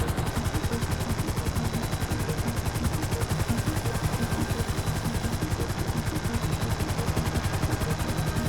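Helicopter hovering in Grand Theft Auto V, a continuous fast rotor chop that stays steady and close for the whole stretch, with no other sounds.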